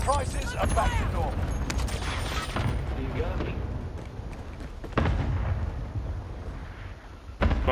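Bursts of gunfire from Call of Duty: Modern Warfare multiplayer, sharp rattling shots scattered through the clip with louder cracks near the middle and end, mixed under game noise and voice chat.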